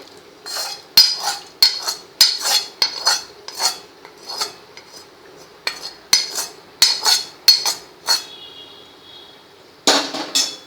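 Cooked vegetables for white sauce pasta being stirred in a pan, with a utensil scraping and clinking against the metal in quick repeated bursts. The clinks are loud and close, followed by a pause and one final clatter.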